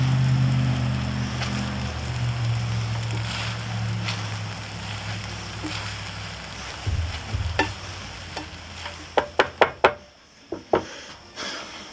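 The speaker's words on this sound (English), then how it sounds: "Now that the meat and everything is warmed up again, go ahead and add in your rice back in." Rice is stirred into a pot of pork rib jambalaya: a soft sizzle fades as a spoon scrapes and knocks against the pot several times, with clustered clinks near the end.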